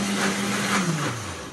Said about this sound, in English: That means that your blender just needs a little bit more liquid to do its job.